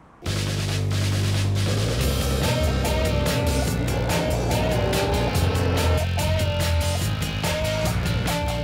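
A hired rental car drives along roads on the Spanish island of Menorca, with a steady engine and road drone at close range and loud throughout, overlaid by music and no talking.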